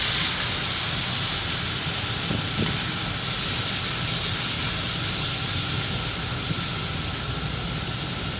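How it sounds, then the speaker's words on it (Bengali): Mustard paste hits hot oil in a wok with dried red chillies and nigella seeds, giving a steady bright sizzle and hiss, close and even, with a couple of faint clinks partway through. "এবার কড়াইতে শুকনো লঙ্কা আর কালো জিরে সম্বর দিয়ে, যে মশলা সর্ষে বাটাটা যেটা ছিল"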